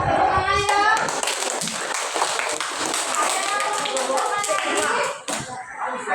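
A classroom of children claps hands together, a dense burst of applause mixed with young voices and chatter, fading briefly near the end.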